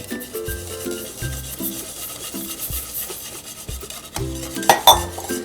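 A whisk scrapes and rubs rhythmically against a pot while grits are stirred into hot water, repeated quick metallic strokes with a few sharper clinks near the end, no voices.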